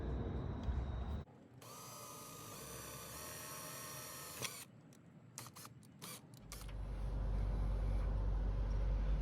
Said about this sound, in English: to put the sheet metal screw in, I will drill a pilot hole first